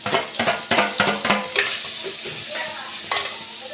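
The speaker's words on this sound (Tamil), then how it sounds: "கொஞ்சம் கருவேப்பிலை நல்லா வதக்கிக்கிட்டு" Cumin, black pepper, onion and curry leaves sautéing in a hot pan: a steady sizzle under a fast run of rhythmic spoon-against-pan scrapes and knocks in the first half, then lighter stirring with an occasional sharper tap.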